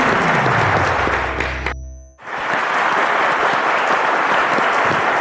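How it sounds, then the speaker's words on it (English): An audience at a televised quiz show in a studio breaks into loud, sustained applause. It swells after a brief musical sting and fills the rest of the moment as a dense, even wash of clapping. "A round of applause, ladies and gentlemen."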